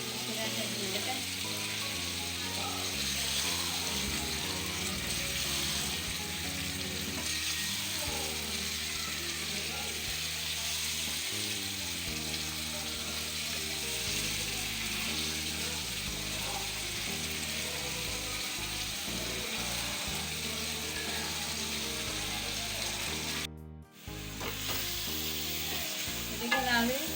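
Tomato paste and tomatoes frying in a kadhai give a steady, dense sizzle with stirring and scraping, loud and continuous throughout, briefly cutting out near the end.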